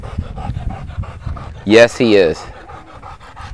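A Czech Shepherd working detection dog pants rapidly and steadily up close, with rhythmic breathy huffs throughout, while a person's voice briefly speaks over it in the middle.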